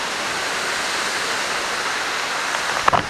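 A waterfall roars as a loud, steady broadband hiss that continues unchanged throughout, with a brief knock or splash near the end and no voices.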